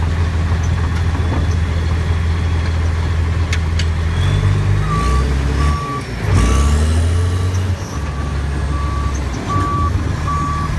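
A 2000 Case 1150H dozer backs up with its reversal alarm sounding steady, evenly spaced beeps over a loud, constant diesel engine rumble and track clatter close by.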